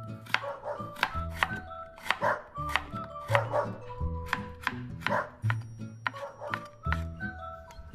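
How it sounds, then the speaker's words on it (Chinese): Knife chopping sliced taro into thin shreds on a board, a steady run of close, crisp taps with short pauses, no talk. "跟着再切成丝"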